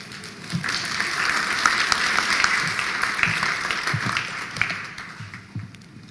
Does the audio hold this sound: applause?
yes